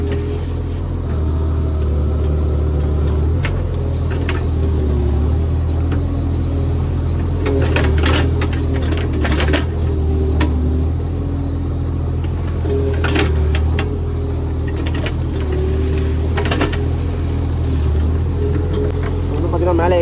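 Mini excavator engine climbing up a slope in a banana plantation, a steady low diesel rumble throughout with intermittent clanks and bursts of strain, and a voice speaking over it.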